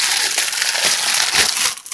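A bag of party mix snacks crushed by hand, producing loud, close crackling and crinkling crunches of plastic and broken bits in a short continuous burst.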